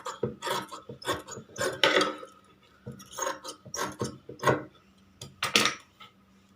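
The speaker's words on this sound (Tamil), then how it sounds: "இப்போது எக்ஸஸாக இருக்கிற கிளாத்தை கட் பண்ணி போட்டுருங்க." Excess blouse cloth being cut with scissors: a series of crisp snipping and rustling bursts in an irregular rhythm, close and fairly loud, with short quiet gaps between cuts.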